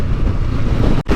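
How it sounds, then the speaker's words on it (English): Strong gusting wind roars and buffets against the microphone of a Honda NX500 adventure motorcycle in wild weather, a dense continuous rumble that briefly drops out near the end. "Wild weather, everyone, absolutely wild."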